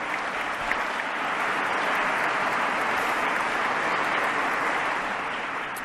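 Loud, sustained applause from an audience for the collaborators of a radio programme, many hands clapping evenly for several seconds with no speech on top.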